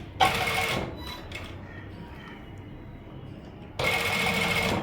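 A sewing machine stitching around the curve of a V/U-shaped neckline: two loud bursts of rapid whirring stitches, with a quieter pause between them while the fabric is turned.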